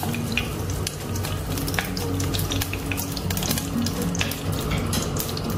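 Chicken skin frying in hot oil as part of making chicken inasal, a dense continuous crackle with frequent sharp spits and pops, close up and fairly loud, with no voices.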